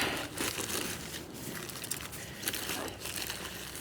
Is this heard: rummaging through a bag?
yes